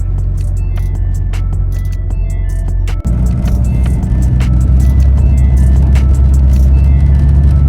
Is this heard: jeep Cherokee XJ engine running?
yes